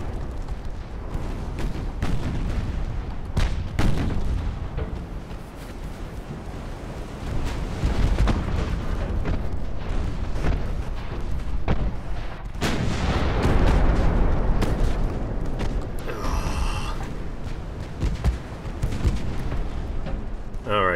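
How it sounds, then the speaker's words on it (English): Naval guns fire from warships in the Ultimate Admiral: Dreadnoughts naval battle game, repeated heavy booms landing over a constant windy sea rumble, with someone talking intermittently. "the guns are still firing"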